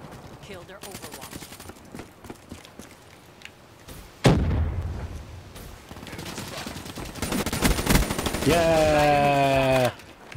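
Gunfire in the video game Black Ops 3 on PS4, a sudden loud burst of shots and explosive bangs amid chaotic game sounds, followed by a rising electronic tone.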